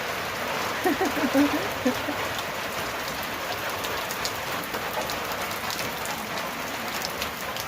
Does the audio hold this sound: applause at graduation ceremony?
no